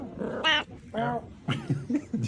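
Several small cats meow near a fire in the mountains of Bali, a series of short, close meows and a low growl-like cry spaced across a couple of seconds over quiet background noise.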